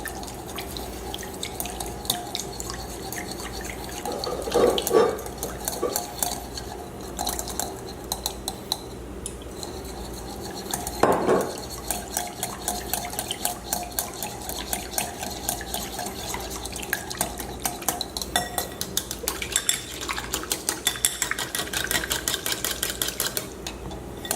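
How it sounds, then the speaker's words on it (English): Metal whisk clinking and scraping rhythmically in a bowl while olive oil dressing is beaten together, a steady close-up clatter with a few louder knocks against the sides and no talking. "And 2 tablespoons of olive oil. And we whisk together to well combined."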